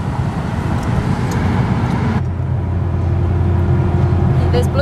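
A new car on the move shifts gear about halfway through, its steady engine and road drone dropping to a lower, smoother note after the change, loud and close throughout.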